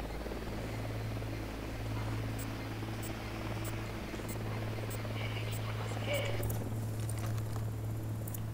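A helicopter in the video game Ghost Recon Wildlands drones steadily throughout, a constant low rotor hum with a buzzing overtone, joined by fainter game sounds toward the end.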